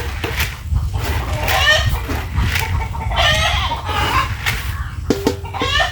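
Chickens cluck and squawk repeatedly at close range in a farmyard, with overlapping bursts of varying loudness throughout and a low background rumble.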